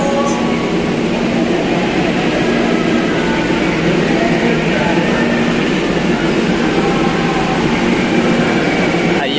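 A metro train rumbles at Ayala Station in Makati City, a loud, steady roar of wheels and motors that carries on throughout under a faint station announcement.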